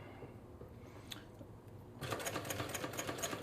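A secondhand Yamata GC8500 sewing machine stitches cotton at a long stitch length, its rapid mechanical whirring starting up partway through and continuing loud and steady after a quieter lead-in.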